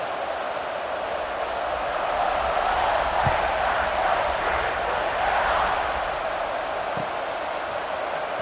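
Stadium crowd in an American football video game, a steady broad roar of many voices buzzing continuously before a kickoff, fairly loud and unbroken throughout.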